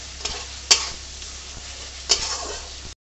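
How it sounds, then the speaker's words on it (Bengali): Spice paste with garlic is fried and stirred in a pan for rajma, giving a soft continuous sizzle broken by two sharp spatula scrapes. "এবার এটা দিয়ে মশলাটা একটু কষিয়ে তারপরে রাজমাটা তুলে দেবো"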